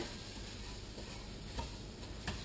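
Quinoa is stirred through chorizo, onion and garlic in a pan, a soft, quiet sizzle broken by a few faint spoon scrapes and taps against the pan.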